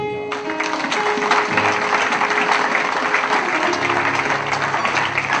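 A congregation in a prayer hall breaks into loud, sustained applause that fills the room steadily from start to finish, with no talking above it.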